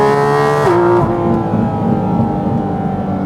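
A Porsche Cayman GT4 RS engine with a 9,000 RPM redline sounds loud and close, its high, strained tone dropping sharply in pitch partway through, then settling into a lower, steady drone.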